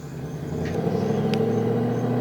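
A Ford Mustang 5.0 engine idles steadily with a deep, constant rumble and low throb, close by, with a faint clink partway through.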